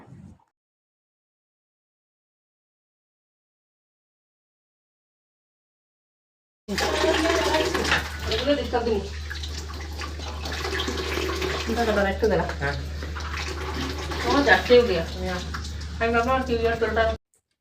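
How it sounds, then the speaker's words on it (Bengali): After a long silence, tap water suddenly gushes steadily into containers indoors, close and continuous, with faint voices talking beneath the running stream. "এখন জল এসছে, তখন মা জল ভরছে।"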